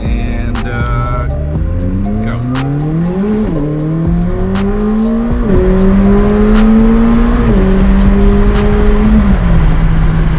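Race car accelerating hard away through several gear changes, engine pitch climbing, dropping at each shift and climbing again, loud and continuous with some tire noise.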